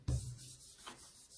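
A sheet pressed and rubbed by hand onto a painted gel plate during cardmaking, a brief soft bump followed by quiet, close rubbing strokes.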